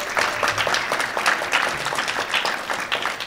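An audience at a university conference keynote applauds steadily for a few seconds, dense clapping from a roomful of people, moderately loud with no voices.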